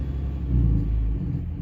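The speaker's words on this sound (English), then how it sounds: "the ECU is trying to engage the exhaust brake" A diesel truck with a Banshee VGT setup engages its exhaust brake as the throttle is released, giving a low, steady, close rumble that swells slightly in the middle before settling.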